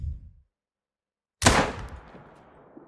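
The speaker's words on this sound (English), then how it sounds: "Then you're going to want to take the shot." A single loud hunting rifle shot in theHunter: Call of the Wild, cracking sharply after a stretch of silence and then rolling away in a long fading echo.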